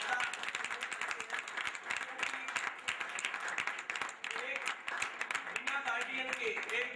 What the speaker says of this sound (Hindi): तो मैं सबसे चाहूंगा कि वो हमारे जो डायरेक्टर हैं उनके लिए भी तालियां बजाइए